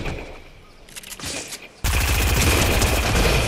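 SMG and shotgun fire in Fortnite, a quiet stretch with a few scattered shots giving way to a dense, loud, continuous burst of automatic gunfire lasting the final seconds.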